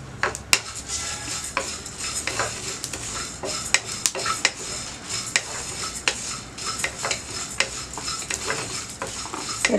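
Curry leaves frying in a pan while making rasam powder, a faint sizzle beneath frequent clinks and scrapes of a metal spoon stirring against the pan.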